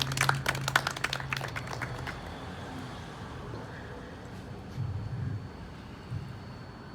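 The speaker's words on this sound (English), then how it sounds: "please big round of applause for Hardeep Paji" An audience at a community event applauds for Hardeep Paji in a short, loud burst of clapping that fades within about two seconds, leaving low murmuring room noise and faint background voices.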